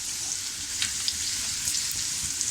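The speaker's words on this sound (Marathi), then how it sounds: "फक्त त्याचा खमंग वास सुटेपर्यंत त्याला आपण परतून घ्यायचं आहे" Spice masala frying in a pan for bread patties, a dense, even hissing sizzle with light stirring ticks, close and uninterrupted by voices.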